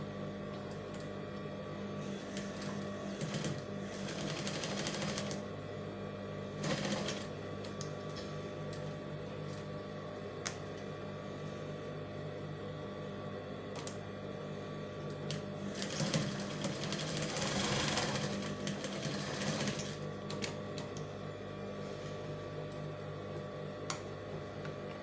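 A sewing machine runs steadily for a long stretch, stitching both sides of a fabric standing bow, its motor hum and needle rattle continuous with brief pauses and speed changes.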